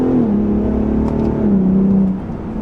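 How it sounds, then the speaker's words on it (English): A 2021 Ford F-150 Raptor's engine revs loud and close as its 10-speed automatic is shifted by hand, the drone holding steady, dipping in pitch at a quick gear change, then easing off. "I'm going to try the manual shifting here on the 10-speed auto. Pretty quick downshifts and upshifts."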